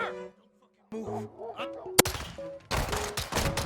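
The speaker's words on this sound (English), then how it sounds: "He shot me when he wasn't looking at me." Gunfire in the video game Modern Warfare 2: a sharp single shot followed by a dense burst of rapid automatic fire, mixed with game effects and a voice talking.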